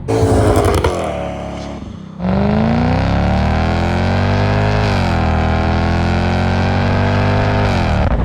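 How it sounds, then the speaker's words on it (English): A car engine screams at high rpm from outside, bouncing off the rev limiter in a loud, sustained, stuttering wail after a brief drop in pitch. "This car makes a hell of a noise when you bounce off the rev limiter"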